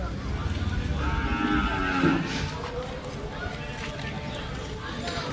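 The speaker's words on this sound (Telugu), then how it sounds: "సో బర్రెలు ఆవులు ఎడ్లు అన్నీ వస్తూ ఉంటాయి" Buffaloes and cows low and moo amid a busy outdoor Sunday cattle market crowd at Chilpur Gutta, Warangal, with people talking throughout and a constant background murmur.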